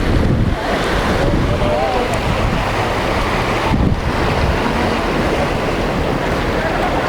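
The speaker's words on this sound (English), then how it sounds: "The blue Caribbean Ocean." Caribbean Ocean waves and strong wind at St. Croix, a loud, continuous roar of surf mixed with heavy wind buffeting the microphone.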